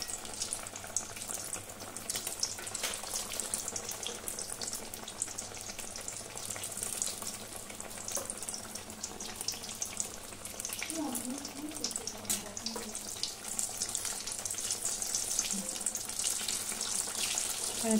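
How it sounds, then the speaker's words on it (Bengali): Potato and egg chops fry in oil over a low gas flame, giving a steady, dense sizzle and crackle that holds evenly throughout with no talk. "চপগুলো একটু ভাজবো, তাহলে চপগুলো ভিতর থেকে খুব সুন্দর করে মুচমুচে হয়ে যাবে"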